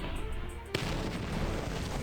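Shotgun fire in the video game Battle Nations, a sharp blast partway through followed by a dense, rumbling wall of combat noise that fills the rest of the moment.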